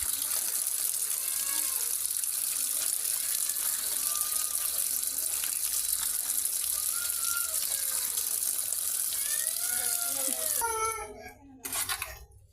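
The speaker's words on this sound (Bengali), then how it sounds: "আপনারা দেখুন কিভাবে আমরা ধুয়ে নিচ্ছি মাছগুলোকে।" Small river fish are rinsed in clean water, a steady close splashing and running-water wash that fills most of the stretch before thinning out near the end.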